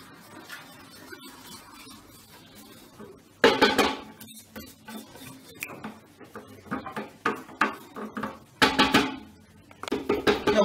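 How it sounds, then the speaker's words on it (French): A spatula scrapes the bowl edges of a Companion food processor while mixing a batter with milk and vanilla sugar, giving bursts of scraping and knocking that start and stop, close and loud. "Je racle un peu les bords"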